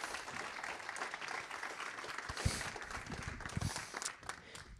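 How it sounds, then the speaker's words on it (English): Applause from an audience at a tenth-anniversary celebration and fundraising event, honoring alumni introduced on stage; moderate clapping from a crowd, somewhat distant and continuous, with a few louder knocks and shuffles. "Can everyone please give them a big round of applause?"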